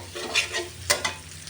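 Chopped garlic and onions frying in oil, a soft sizzle broken by a few quick stirring scrapes of a spoon in the pan, close by, brief and without talk.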